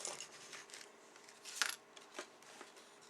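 A bone folder pressed firmly along a paper pocket notebook's spine, giving close, faint scraping and ticking sounds in short repeated strokes.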